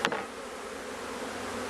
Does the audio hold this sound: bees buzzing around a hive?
yes